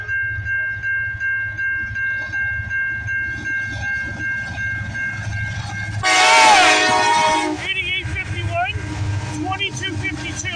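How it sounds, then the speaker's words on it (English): A loud, sustained CN freight train horn blasts for about two seconds partway through, over steady rumbling locomotive noise and clacking rail sounds on a snowy morning. "This is going to be a loud horn."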